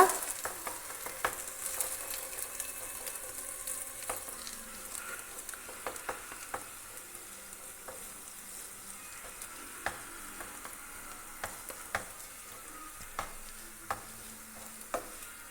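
Bitter gourd and egg are stir-fried in a pan, giving a faint, low sizzle with scattered crisp spatula clicks and taps over a quiet background.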